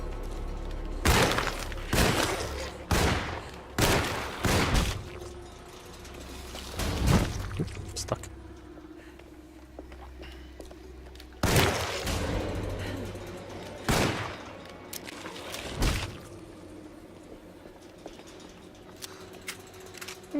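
Gunfire in the survival horror game Alone in the Dark (2024), a series of loud, sharp single shots spaced irregularly, some in quick pairs, with faint ambient noise between.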